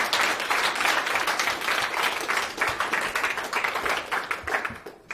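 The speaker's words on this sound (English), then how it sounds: "could we clap very loudly so that Simon can hear through the microphone?" Workshop audience at a computational creativity and games event clapping loudly and steadily, a dense sustained wash of applause that fades slightly at the end.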